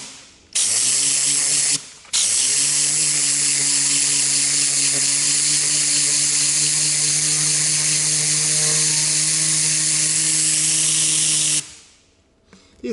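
A Tornador air cleaning gun blasts a sanding disc with a loud, steady hiss and whirring hum. The air starts, cuts out briefly, resumes for about ten seconds, then stops, with no talking.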